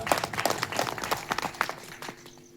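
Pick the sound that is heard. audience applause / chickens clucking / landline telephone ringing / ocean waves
audience applause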